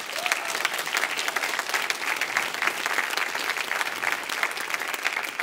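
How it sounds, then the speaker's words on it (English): Sustained applause from a convention panel audience, dense clapping that stays even and loud for the whole stretch, with no talk. "How about a big round of applause for the organizers?"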